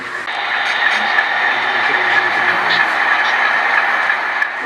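Model train rolling along the main line of an HO-style Reading Lines layout heading into the city and yard, a steady continuous running hum and rail rumble with faint clicks, close and even throughout.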